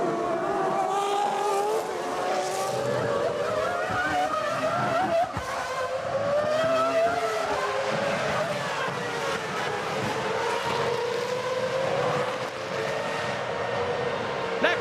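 Formula One cars racing at Monza in the 2001 Italian Grand Prix whine at high pitch, their engine notes rising and falling continuously as they pass, under a broadcast commentator's talk.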